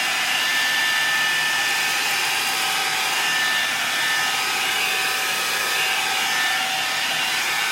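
Swiffer Sweep Vac cordless vacuum running steadily and close up, a continuous high-pitched motor whine with airy hiss as it sucks up a pile of debris from the floor, no voices.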